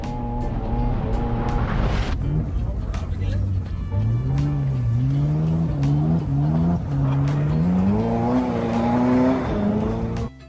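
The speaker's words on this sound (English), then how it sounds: "Like this guy drifting in F40 on some snow and ice." A Ferrari F40 drifting on snow and ice, its engine wailing and rising and falling in pitch as it revs through slides, loud and continuous, with tire noise mixed in.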